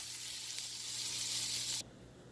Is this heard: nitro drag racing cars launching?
no